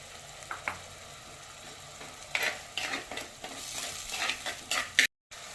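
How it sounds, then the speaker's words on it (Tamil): Tomatoes sauté in a pan with a soft sizzle and several scraping stirs and utensil clinks, close by, with no voices, and a brief dropout just before the end. "தக்காளி நல்லா வதங்கிடுச்சு."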